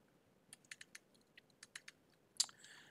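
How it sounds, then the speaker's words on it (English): Separate keystrokes on a computer keyboard, about a dozen light clicks spread unevenly over three seconds, with a sharper, louder tap near the end; quiet setting with no voices. "So I'm going to type that into the new column name section here."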